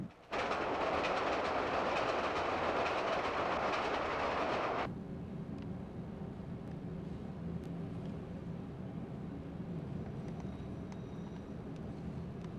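Loud rushing and rattling of an elevated rapid transit train passing close by, cutting off abruptly after several seconds to a quieter low rumble with faint clatter.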